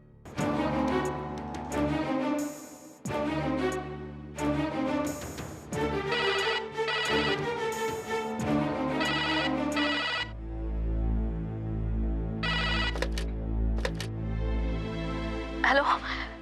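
A telephone call rings again, its melodic electronic ringtone repeating in phrases that blend with musical tones and a low droning background for the whole stretch.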